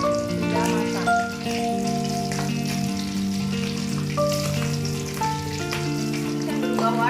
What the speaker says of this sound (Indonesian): Setelah minyak panas, kita masukkan ikan tongkolnya dan kita goreng hingga berubah warna hingga matang.